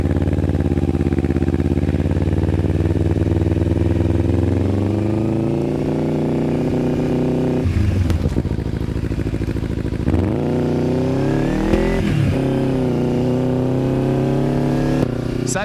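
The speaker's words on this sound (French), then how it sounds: "le but, c'était quand même de vous faire écouter un petit peu le pot d'échappement" A Kawasaki Ninja 300 motorcycle with an aftermarket exhaust idles with a deep, throbbing note, then revs up sharply several times before settling back, loud and close.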